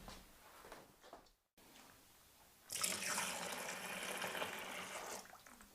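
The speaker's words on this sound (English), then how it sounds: "this also now I'm going to pour into the bucket" Hot liquid poured from a can into a bucket while brewing beer at home: a faint clunk and short pause, then a steady splashing, gurgling pour lasting about two and a half seconds before tapering off.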